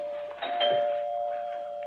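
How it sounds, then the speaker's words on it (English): A doorbell rings once in a radio drama scene at a house in Water Canyon, a steady electronic tone with a soft chime attack, fairly quiet and heard alone. "I rang the bell."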